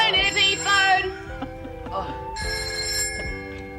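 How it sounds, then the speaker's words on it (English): A landline telephone rings indoors in repeated bell bursts during a celebratory toast at home, with a voice speaking over the first part before the ringing continues on its own. "Cheers, phone, Eddie, phone"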